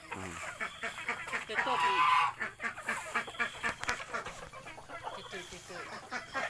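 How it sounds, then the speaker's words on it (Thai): Laying hens on a mixed farm with ducks and fish cluck and squawk nearby in busy, overlapping bursts, while someone speaks briefly among them. "นี่คือไก่ไข่ค่ะ"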